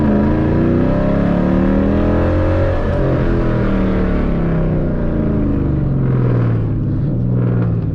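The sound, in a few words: Dodge Challenger 6-speed downshifting, engine revving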